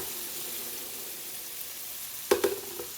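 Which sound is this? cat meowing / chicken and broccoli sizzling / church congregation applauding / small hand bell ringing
chicken and broccoli sizzling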